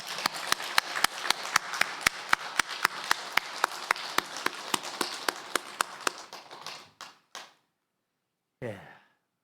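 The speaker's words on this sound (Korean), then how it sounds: "우리도 힘찬 박수로 영광 돌리겠습니다." A church congregation at a Sunday worship service gives a round of applause, with crisp, evenly spaced claps forming a rhythmic beat over a softer wash of hands. It tapers off into a few scattered claps and then falls silent.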